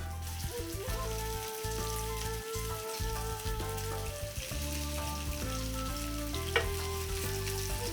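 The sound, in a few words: chicken gizzards frying in a pan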